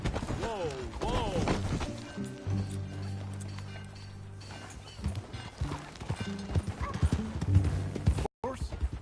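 Horse hooves clip-clop over open ground in Red Dead Redemption 2, a steady rhythm under voices talking and a brief whinny, with a sustained music tone in the middle.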